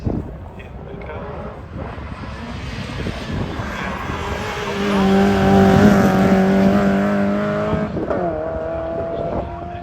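Renault Clio 200 Cup race car at a hillclimb, its engine building to a loud nearby run with rising and falling gear tones at the midpoint, passing under a commentator's voice.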